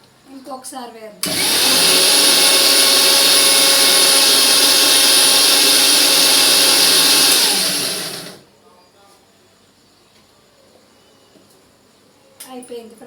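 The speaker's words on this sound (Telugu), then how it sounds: "ఉల్లిపాయ, టమాటా కూడా నేను మిక్సీ వేసేసుకున్నాను." A mixie grinding onion and tomato to paste roars in one loud, continuous burst of about seven seconds, then cuts out, with quiet talking before and after.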